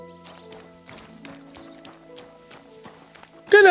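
Horse hooves clip-clopping at a steady walking pace in the medieval game Kingdom Come Deliverance 2, a run of close, even hoofbeats over a faint tonal background, ending in a sudden louder crash of sound.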